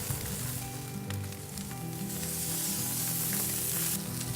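Thick steaks sizzle and crackle over the fire on an Argentinian-style Gaucho grill, a dense, constant frying hiss with scattered pops, close and loud throughout.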